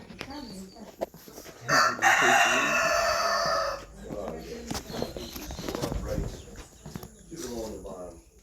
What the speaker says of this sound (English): here are two roosters that are about to meet their maker